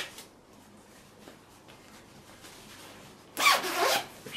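A short zip on a warm winter sleeping bag pulled in one quick, close rasping stroke after quiet fabric rustling.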